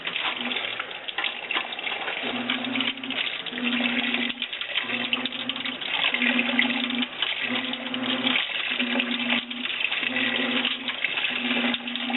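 Laundry is swished back and forth by hand in a tub of water, giving a steady watery slosh with a regular, repeating stroke rhythm throughout.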